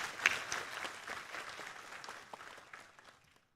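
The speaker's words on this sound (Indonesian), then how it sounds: "Tepuk tangan bagi para lulusan MNC University." Crowd applause for the graduates at the 2025 MNC University graduation ceremony, a dense burst of many hands clapping that gradually thins and fades out to silence near the end.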